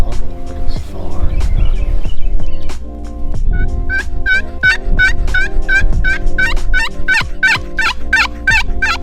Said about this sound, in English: That was a gobble, but it was far.